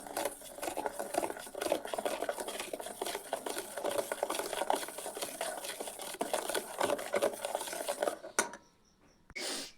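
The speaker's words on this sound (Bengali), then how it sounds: "তো এরপর এগুলিকে আরও ভালো করে মিশিয়ে নেব।" Steady whisking of sponge cake batter of oil and milk in a bowl, a continuous rapid scraping and clinking of utensil against the bowl for about eight seconds, then a short pause.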